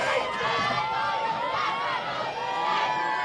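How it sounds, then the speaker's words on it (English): Crowd in the stands at the Iowa girls' high school state softball 2A semifinal, Van Meter against East Marshall, at Harlan's Hazel Rogers Sports Complex: a steady, moderately loud babble of chatter and murmuring that runs through the whole stretch without pause. "Good crowd filling in here at Harlan Hazel Rogers Sports Complex."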